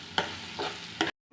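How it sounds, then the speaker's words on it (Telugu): Mushroom curry being stirred in a pan with a spoon, three distinct scraping strokes spaced apart over a soft sizzle, close and fairly quiet, with no talking. "మొత్తం కలిసేంత వరకు కలుపుకోవాలి."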